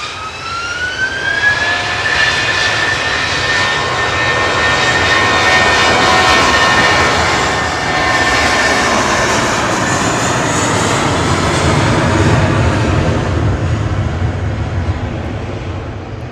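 An old Airbus A321-100 jet at Manchester Airport roars loud and close, its engine whine rising then holding as a steady, sustained rumble with a high tonal note, no voices over it.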